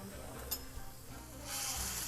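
Small bay scallops sizzle in a paella pan with asparagus and chicken, a steady quiet frying hiss with a faint clink near the start and a brighter surge of sizzling toward the end.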